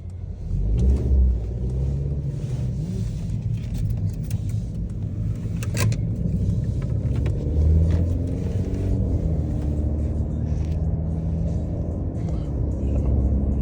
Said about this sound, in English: These engines like has that buzzy sound